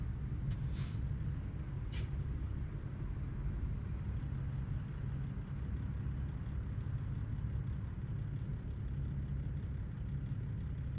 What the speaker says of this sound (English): now with the new engine pack that I installed, man, it sounds amazing.